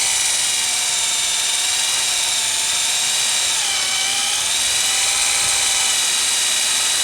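Hand drilling into thick, cold locomotive steel with a freshly sharpened drill bit gives a steady, loud, high-pitched grinding whine that holds continuously throughout with only slight shifts in pitch.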